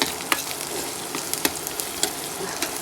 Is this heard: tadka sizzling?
yes